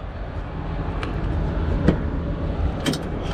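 A camper van's engine idles steadily at close range, with a few brief clicks and knocks that could be doors or keys.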